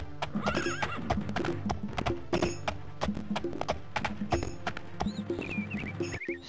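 A video game horse's hooves clip-clop steadily close by, a whinny rising over the galloping rhythm with chiming tones mixed in.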